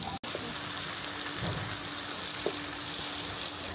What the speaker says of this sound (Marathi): दोन्ही बाजूंनी आलटून पलटून छान असा खमंग आपल्याला मासा भाजून घ्यायचा आहे